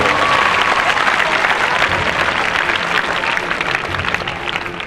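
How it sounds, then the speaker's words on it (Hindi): Hearty, continuous clapping from a school gathering at Bala Compound municipal school no. 86 in Bhiwandi, loud and dense, tapering slightly toward the end. "क्या बात है, जोरदार ताली से बजाइए।"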